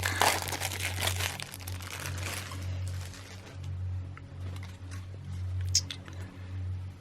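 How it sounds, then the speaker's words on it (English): Plastic wrap is peeled and crinkled off a card box, close and continuous, with rustling and a few sharper crackles over a low background hum. "Okay, let's take off this plastic."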